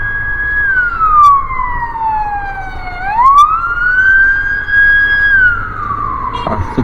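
A wailing siren rises and falls in long sweeping tones, loud and close, with traffic rumbling underneath.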